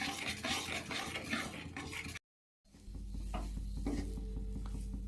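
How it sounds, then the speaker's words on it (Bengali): Breadcrumbs made from ground bread are stirred into a sweet mixture with ghee in a pan, giving soft continuous scraping and faint sizzling, with a brief silent cut partway through and no talk. "সেই পাউরুটি গুঁড়োটা দিয়ে দিচ্ছি। দিয়ে ভালো করে এটা নাড়ব।"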